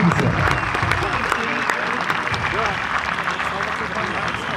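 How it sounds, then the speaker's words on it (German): Applause from spectators at an outdoor RC model plane show, a steady crowd clapping wash with a loudspeaker voice and background noise running underneath. "Applaus für die Vorführung."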